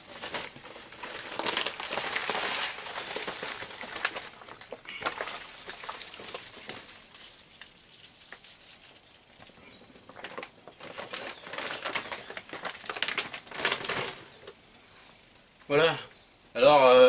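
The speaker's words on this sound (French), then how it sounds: "je vais déballer mes fleurs de Chardon-Marie" Dried milk thistle flowers are unwrapped, making repeated crinkly crackling and crumpling of wrapping in bursts that come and go, close and fairly loud, with a louder rustle at the very end.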